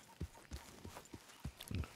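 A horse's hooves clip-clop at a steady walk in Red Dead Redemption 2. About seven soft, regular thuds play at a quiet level over light background noise.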